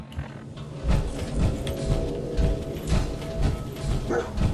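Dogmeat, the canine companion in Fallout 4, barks in a quick series of short, fairly close woofs over a busy game soundscape, no talking.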